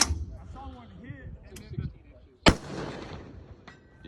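Gas gun shots fire at targets outdoors, with a sharp loud crack near the middle and a fainter pop near the end, while people talk and call out around them.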